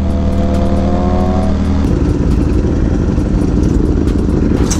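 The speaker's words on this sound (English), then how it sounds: "Easy gonna send it off with a wheelie" A sport motorcycle such as a Panigale V4 SP2, Ninja H2 or Fireblade revs hard up close during a wheelie on a Miami street, a loud steady engine roar that shifts pitch partway through, with no voices.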